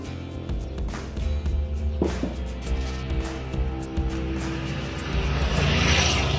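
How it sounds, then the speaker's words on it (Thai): Steady roadside traffic noise is a dense, continuous rumble and hiss of passing vehicles that swells louder toward the end, heard alone without speech. "เสียงรบกวนหน่อยนะครับนะเนื่องจากอยู่ข้างถนนนะครับ"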